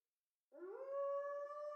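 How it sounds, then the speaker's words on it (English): A wolf howl from a video game rises in from silence and holds a steady, clear, high tone, loud and alone with no talk. "It's a wolf."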